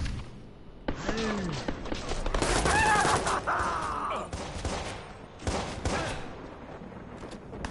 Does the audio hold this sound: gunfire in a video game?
yes